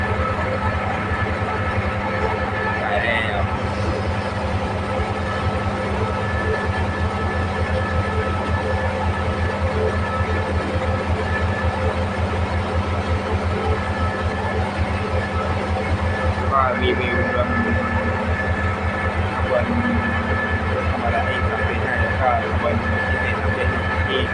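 BTS Silom line electric trains pass through an elevated station with a steady, loud rail rumble and wheel drone. A couple of brief squeals rise over it near the start and again midway.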